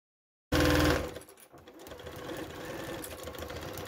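A domestic sewing machine runs a loud burst of forward stitching, then continues at a steady, slightly quieter buzz as it reverses for backstitching near the edge of fabric for an ironing mat.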